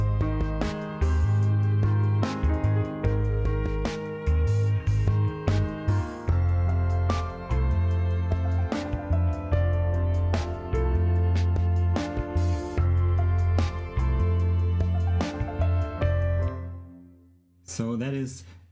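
A soft, wide, laid-back piano and orchestra track with a rock/classical arrangement plays steadily with sustained low tones and repeated note attacks, fading near the end, with no voices.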